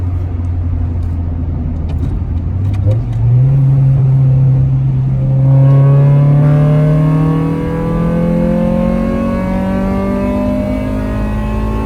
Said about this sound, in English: See if we can hear the intake.